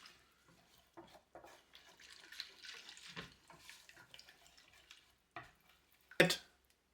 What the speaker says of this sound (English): And then we use a whisk and we mix all these ingredients.